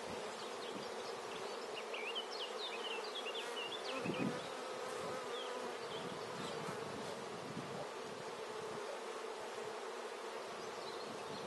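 Honeybees hum and buzz steadily from an open hive while a small colony is moved from a nucleus box into a full hive, a dense continuous drone with individual bees flying close past the microphone.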